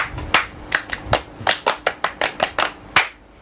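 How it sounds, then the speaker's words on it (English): Children clap in a brisk, uneven burst of about a dozen sharp claps over a few seconds, close and fairly loud, celebrating a girl during a live kids' radio show. "Let's clap for her."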